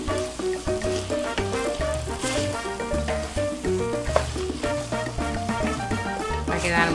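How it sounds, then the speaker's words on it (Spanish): Machaca dried beef sizzling in a pan as it is added and stirred for caldillo de machaca, a steady frying hiss with stirring scrapes beneath background music. "vamos a echar la machaca. Luego seguimos revolviendo."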